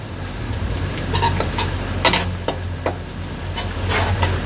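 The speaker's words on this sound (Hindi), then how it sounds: "तो अब ये साथ साथ साबुत मसाले भी भुने जाएंगे और थोड़ा सा प्याज और फ्राई होगा।" Onion and whole spices frying in a pot for chickpea pulao, with a steady sizzle under intermittent sharp clinks and scrapes of a spoon stirring against the metal pot, close up and without voices.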